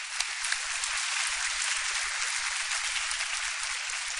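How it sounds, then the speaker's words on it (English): Audience applause at a commencement ceremony fills the room as steady, dense clapping from a large crowd, even in level throughout, with no voices. "Can you please give them a round of applause?"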